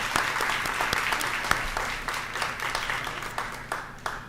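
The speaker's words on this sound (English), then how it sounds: "So can we just give them a round of applause" Applause at a community public forum meeting, a modest crowd clapping with distinct individual claps standing out, steady for a few seconds before thinning.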